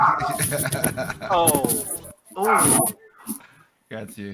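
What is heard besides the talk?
dog barking at the neighbors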